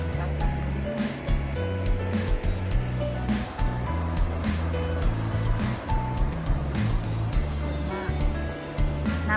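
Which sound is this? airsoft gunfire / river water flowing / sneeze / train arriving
river water flowing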